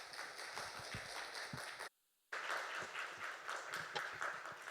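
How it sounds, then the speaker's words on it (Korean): A church congregation at a Korean Wednesday evening service applauds to welcome the pastor to the pulpit, sustained crowd clapping in a large room, briefly cut off by a moment of silence midway before resuming. "우리 박수로 목사님 모시겠습니다"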